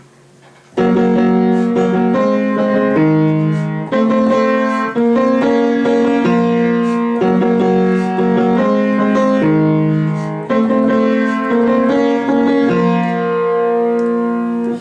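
Piano chords repeat in a steady looping progression, each chord struck and held, playing clearly and fairly loud with no voices.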